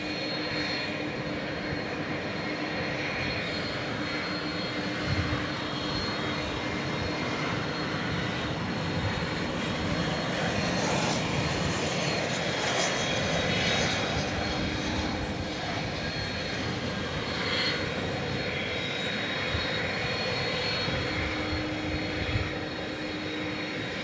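ABX cargo jet engines roar steadily at a DFW runway at night, a loud broadband rumble with a whining tone that holds for the whole stretch with no talk over it.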